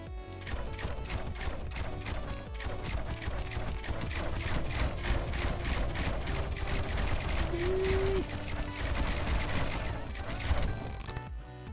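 Mortar towers in Rogue Tower fire repeated thumping shots at a steady rhythm over layered game music and effects, moderately loud and continuous throughout, with no talk.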